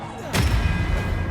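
A Confringo blasting spell bursts in Hogwarts Legacy, one sudden close thump-like blast with a low rumbling tail that lingers for about a second.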